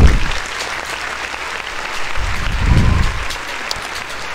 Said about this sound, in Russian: Мне хлопали.